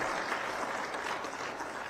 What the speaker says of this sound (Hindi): एक लिए प्रधानमंत्री जी ला सब कोई ताली बजा के स्वागत करा, अभिनंदन करा।